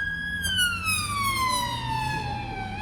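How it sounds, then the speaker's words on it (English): A police car siren passing close by during an outdoor walk, a loud wailing tone that holds and then slides steadily downward as the vehicle moves away, over low traffic rumble. "That was a police car."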